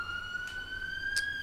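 An ambulance siren passes outside, a steady high-pitched tone that holds at moderate loudness against a quiet background.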